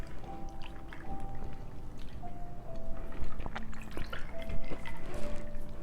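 Squirt grapefruit soda poured into a glass with tequila for a paloma, a steady liquid fill with small fizzy drips and clinks building slightly louder toward the end, heard close up with no talk.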